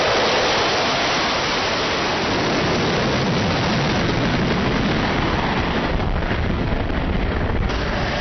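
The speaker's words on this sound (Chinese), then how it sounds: "舰载机如离弦的箭加速滑跑，沿着舰首14度上翘角跑道滑跃升空" A Shenyang J-15 jet powers up and accelerates down the ski-jump deck of the carrier Liaoning, making a loud, continuous broadband engine roar that stays steady and overwhelming throughout.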